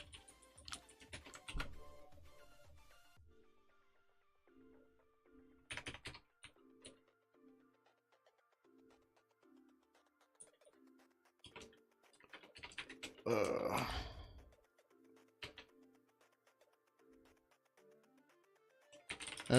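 Typing on a computer keyboard at a desk: soft, irregular bursts of keystrokes close by but quiet, with pauses between runs, a louder rattling flurry in the middle and faint background hum.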